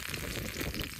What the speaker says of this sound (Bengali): তেলের মধ্যে দিয়ে দিলাম শুকনো মরিচ, শুকনো মরিচটা ভেজে নয়, রসুন, ভালোভাবে ভেজে নয়